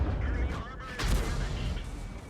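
Artillery fire in the tank game World of Tanks, heard as a muffled, rumbling boom about a second in, set within a steady low battle din.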